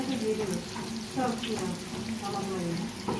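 Rings of halka dessert dough are piped from a bag into hot oil, where they fry with a steady, dense sizzle, close and constant, while a voice talks faintly underneath.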